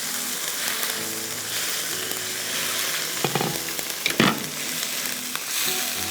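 Chicken frying in oil with ginger and garlic makes a dense, continuous sizzle with scattered pops and a few louder crackling bursts near the end, heard up close without speech.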